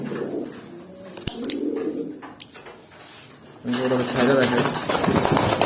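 Pigeons give soft, low, repeated coos close by, growing fuller and louder toward the end, with a person talking over parts of it and a few sharp clicks.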